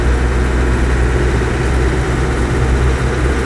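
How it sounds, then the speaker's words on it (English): Ex-military Land Rover 90 hardtop, left-hand drive, with a naturally aspirated diesel engine, runs with a loud, steady low rumble and no change in pace. "So engines being the normally aspirated diesel, it's not the quickest thing on the block as all the military ones are"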